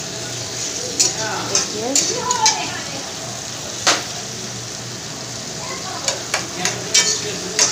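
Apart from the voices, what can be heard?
potatoes frying in a pan on high flame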